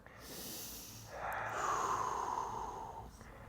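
Slow, deep breaths during a neck massage, close and quiet: a brief intake followed by a longer, airy exhale, with no talk.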